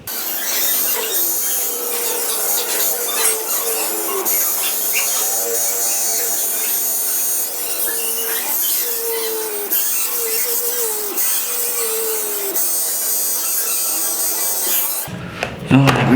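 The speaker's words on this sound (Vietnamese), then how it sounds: "Bây giờ tôi khoan lỗ." A small electric drill bores a hole through an aluminium beer can, giving a close, loud, continuous whining buzz whose pitch sags and recovers, then cuts off with a brief clatter.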